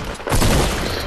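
A single heavy blast of gunfire in Fortnite, loud and close, bursting out after a brief quieter moment and ringing on in a long noisy tail.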